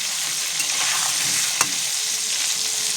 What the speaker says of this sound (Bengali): তাই আমি পটলটাকে প্রথমে এইরকম ভেজে নেব।